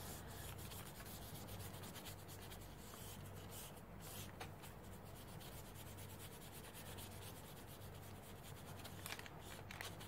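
A wet baby wipe is rubbed over a paper art journal page, making a faint, continuous, close-up scrubbing and swishing.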